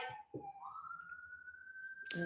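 A faint, distant police siren rises and holds a long wailing tone, with a voice briefly heard at the start and end.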